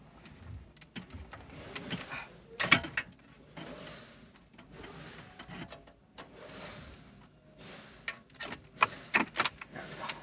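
Electrical plug connectors behind car interior trim are unclipped by hand, giving a quiet run of sharp plastic clicks, snaps and rattles in irregular clusters at close range, with no voices.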